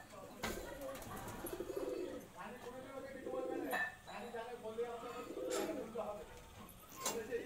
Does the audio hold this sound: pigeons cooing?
yes